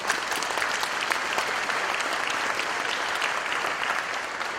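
Dense, even applause from a business summit audience honoring an arts foundation, a continuous crowd of hands clapping at steady loudness for several seconds.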